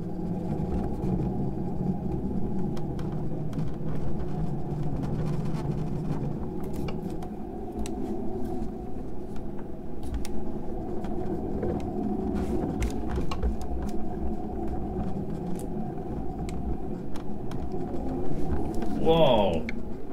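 A Logitech PRO Racing Wheel makes a strange, steady whirring, rumbling noise under throttle while stationary, with faint clicks and a brief higher squeal near the end.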